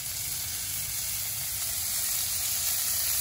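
Smash burger patties sizzle hard in a hot cast iron pan. The frying hiss is close, loud and unbroken for a few seconds.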